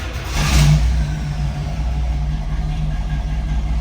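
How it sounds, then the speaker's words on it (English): A 1970 Pontiac Trans-Am V8 rumbles loudly and close after a cold start, settling from an initial surge into a steady, throbbing idle with no talk over it. "I am excited to start this car up for you"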